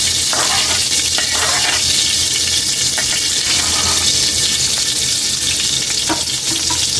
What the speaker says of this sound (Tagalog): Gigisa lang din natin kay Eli.